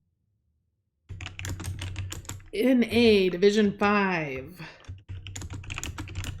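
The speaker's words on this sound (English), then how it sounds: "The team names are so long that you get to hear extra typing." Rapid computer keyboard typing clatters on for several seconds, close and steady, while someone speaks over it in the middle stretch of the clip.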